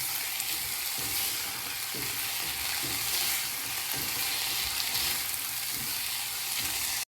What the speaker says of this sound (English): toast your quinoa, just so it has like a little bit of color to it. Nice cooking ASMR there.